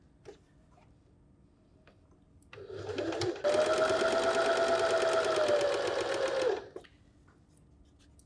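A sewing machine stitching a patchwork pennant runs in one steady whirring burst of about three seconds, close and clear, after a brief lead-in of fabric handling and quiet room sound.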